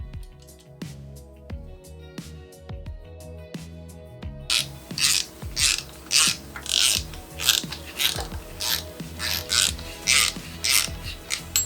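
A ratchet clicks in quick repeated bursts, tightening the new bolts from a timing belt kit on a Mk6 TDI engine, loud and close with steady rhythmic strokes and no talking.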